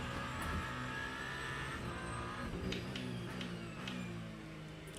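A race car engine drones steadily at Sebring in Le Mans Ultimate, a continuous close hum with gear-change shifts in pitch and faint mechanical ticks, with no voices.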